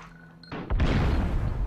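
A mine explodes in the platform video game Abe's Oddysee, a sudden loud boom after a short quiet stretch, then a sustained rumbling roar that fills the rest of the moment.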